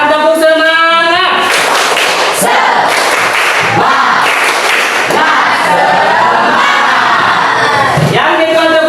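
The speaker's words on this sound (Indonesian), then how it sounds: "Sekarang tepuk semangat." A class of children loudly performs the 'tepuk semangat' clapping chant, shouting together with rhythmic claps over a continuous, dense crowd of young voices, opening with a single adult voice.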